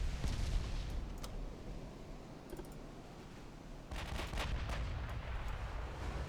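Warship guns booming in Ultimate Admiral: Dreadnoughts, with the French ship Tournon among those firing; repeated heavy salvos and sharp cracks come in bursts over a continuous rumbling battle backdrop, with no talking.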